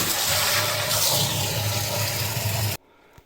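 A drain cleaning machine blasts high-pressure water in a laundry room, a loud, continuous rushing gush that cuts off abruptly near the end, leaving only faint knocks.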